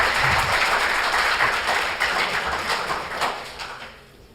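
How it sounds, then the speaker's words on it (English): A lecture audience gives a dense, sustained round of applause, loud at first and gradually thinning and fading toward the end, with no talking. "you could start by giving me a big applause"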